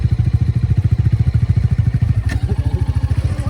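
A motorcycle engine idles loud and close on a monsoon road trip toward Munnar in Kerala, its steady rapid thumping pulse continuing throughout with no talk.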